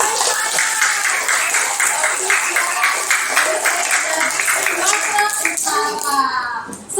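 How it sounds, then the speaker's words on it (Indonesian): Children in an Indonesian classroom clap together for a classmate, a steady run of rapid, dense hand claps that stays loud and close before thinning out near the end, with young voices mixed in. "Oke, tepuk tangan untuk Jesaya."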